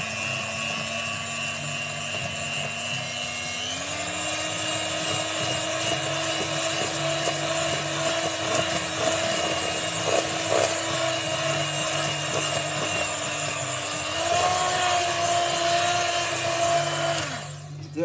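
An electric whisk buzzes continuously through a batter of sunflower oil for apple pie and chocolate fudge cake, a loud, steady motor drone with a few small shifts in pitch, stopping abruptly at the end.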